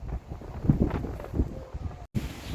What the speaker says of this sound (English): As the weather is, it's very windy, on and off raining.